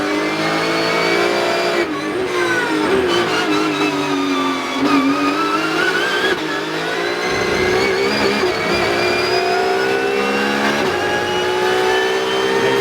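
Porsche Carrera Cup race car engine recorded onboard at Assen, loud and continuous with rising and falling revs through gear changes, a struggling car held at high engine speed with no talk.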